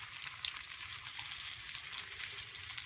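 An egg fries in a pan for breakfast, giving a soft, steady sizzle with faint crackling pops, fairly quiet and with no talk.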